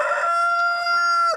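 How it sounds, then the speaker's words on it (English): A large Sussex rooster on a homestead lets out one long, clear crow, loud and close, holding a steady pitch before breaking off at the end. "Sussex chickens, and you can see it's a pretty good sized rooster right there"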